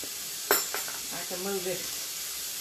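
Country fried steak frying in a pan, a steady soft sizzle under a voice speaking briefly, with a sharp crackle burst near the start.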